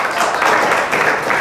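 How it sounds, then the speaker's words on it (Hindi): Children clap together in a Hindi grammar classroom, a brief burst of steady, dense applause that is fairly loud and close. "सही बताया, ताली बजाओ।"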